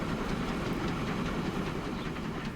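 A train rolls along the track in the Transport Fever 2 game, with a dense, steady rumble and faint rhythmic clickety-clack of wheels that stays continuous and fairly close.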